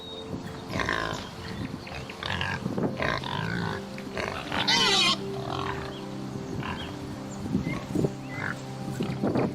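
Close grunts and snuffling from a pig come in uneven bursts, with one louder squealing snort near the middle, over a constant low background hum.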